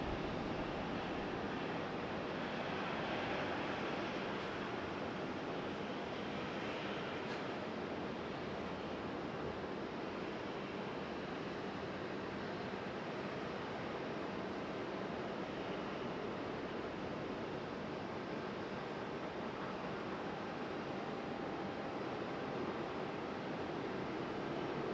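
An airplane passes the observation deck at Raleigh-Durham International Airport, a loud, steady broadband engine roar that holds evenly for the whole stretch without fading.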